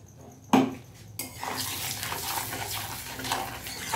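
Whole spices, shahjeera and cashew powder are dropped into hot oil in a pan, with a sharp clatter followed by a steady close sizzle and crackle. No talking is heard.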